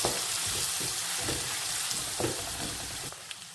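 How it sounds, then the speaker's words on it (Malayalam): Curry leaves fry in hot oil for a pepper liver fry, a continuous close hiss of sizzling broken by the soft scrapes of stirring. "കറിവേപ്പില ഇട്ട് കൊടുക്കാം. നന്നായിട്ട് ഇളക്കുക."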